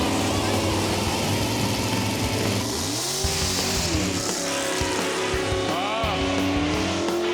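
A drag race car on its first pass of the night, engine rising in pitch with clear gear changes and a brief tire squeal, loud and continuous throughout.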